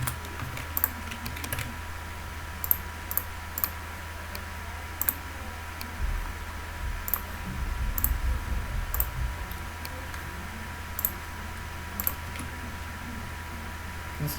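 Close, soft typing on a computer keyboard while entering HTML code, with irregular key clicks scattered in small bursts over a faint steady background hum.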